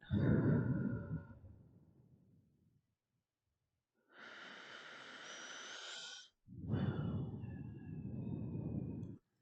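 Slow, deep breaths during a breathing exercise: a long, loud exhale fades out, then a pause, an airy inhale, and another heavy exhale. Close to the mic, with no words spoken.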